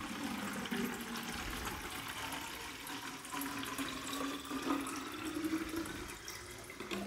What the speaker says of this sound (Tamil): ஸோ இப்போ இந்த தண்ணியை ஊற்றிடுறேன்.